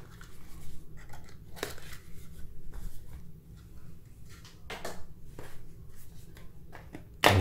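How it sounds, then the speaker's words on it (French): Quiet rustling and handling noises with a few sharp ripping bursts as adhesive tape is peeled off a Raspberry Pi 400 cardboard box, close up. "Bon, il y a un scotch qu'il faut enlever."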